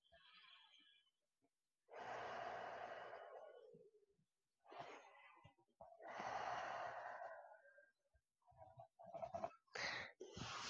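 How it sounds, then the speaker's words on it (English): Slow deep breaths during a yoga stretch, a few long airy inhales and exhales close to the mic, quiet and unhurried with short pauses between. "A couple more breaths."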